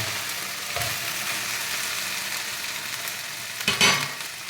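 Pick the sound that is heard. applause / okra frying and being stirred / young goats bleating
okra frying and being stirred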